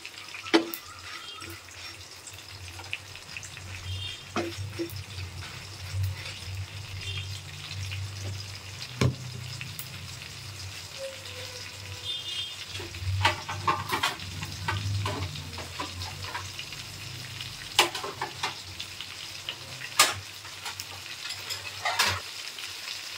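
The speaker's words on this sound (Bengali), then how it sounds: "এদিকে আমাদের চিংড়ি মাছটাও সুন্দর করে ফ্রাই হচ্ছে" Prawns frying in a pan for a bhuna curry, a steady sizzle throughout with intermittent clinks and scrapes of a utensil, close and fairly quiet, no talking.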